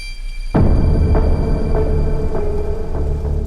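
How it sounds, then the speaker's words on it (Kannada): Heavy rain kicks in abruptly after a brief quiet moment, then keeps pouring as a loud, steady hiss with no voices. "ಈ ಮಳೆ ಬೇರೆ ನಿಲ್ತಾನೆ ಇಲ್ಲ."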